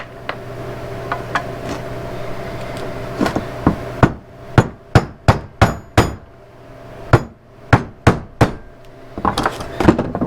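A hammer raps a hard plastic clip on a Honda Civic during brake and valve cover work, giving about a dozen sharp, close knocks, first sparse, then in quick bunches, with no talk.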